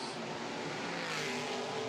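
Aston Martin GT4 race car engine growling as it accelerates out of a corner on a street circuit, a distant, steady rasping roar under light crowd and track ambience.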